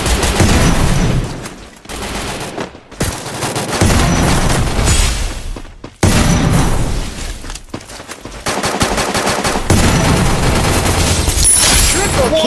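Loud, dense gunfire from a shooter video game: rapid bursts and sustained automatic fire with booming shots, running almost continuously with only brief gaps.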